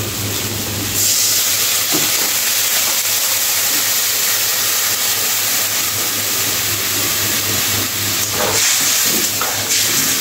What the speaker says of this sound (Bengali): এখন আমি ঝোলের জন্য পরিমাণ মতো জলটাও